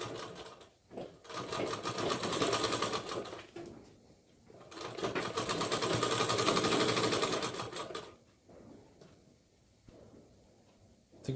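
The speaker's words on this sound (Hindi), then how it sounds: "हर जगह पे सिलाई एक प्लेजर के मार्जिन से ही चलाना है" An electric sewing machine stitches a blouse panel in long continuous runs with a steady mechanical whir, close up, pausing briefly between runs, with no talking.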